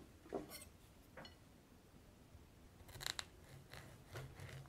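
A knife cutting through a raw romanesco broccoli head makes a few faint, crisp crunching snaps, spaced apart, with a louder double crack near the middle.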